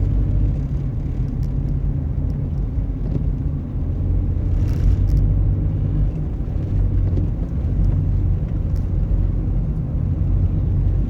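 A car driving on a snowy mountain road between Pemberton and Joffre Lakes in winter gives a steady, loud low rumble of engine and tyres with a faint hiss on top. No one speaks.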